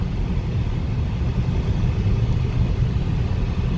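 A 2004 BMW 545i V8 accelerates through the gears, a steady low engine rumble heard from inside the car, loud and continuous with no talking.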